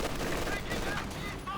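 Machine gun fire in a World War II strategy game, Company of Heroes tournament play, a rapid rattling burst of shots that is fairly distant and dense, mixed with other battle noise.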